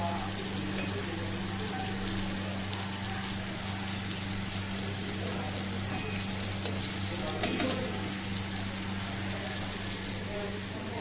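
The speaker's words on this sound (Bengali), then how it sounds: "এই যে আমি পনিরটা ভাজা বসিয়ে দিয়েছি।" Paneer cubes fry in a pan, lightly browning for chilli paneer, with a continuous close sizzle and crackle that holds steady for several seconds, occasionally punctuated by small sharper pops.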